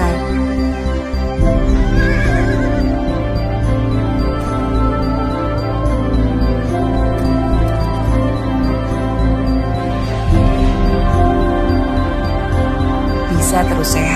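Sumba horses running and neighing outdoors, with whinnies over a steady mix of hoof clatter and background sound that runs throughout.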